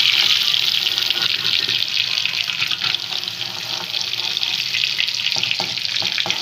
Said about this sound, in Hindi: अब मैं इसको फ्राई करूंगी।